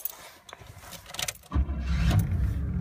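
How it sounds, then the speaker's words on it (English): A 1974 Cadillac Fleetwood Brougham cranked and started with the original keys: brief clicks and a short crank, then the engine catches and settles into a steady low idle, close by. "Car starts that easily."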